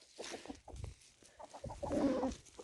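Village chickens cluck and murmur close by, with a rooster's short, strained crow-like call rising among them toward the end. The sounds are fairly faint.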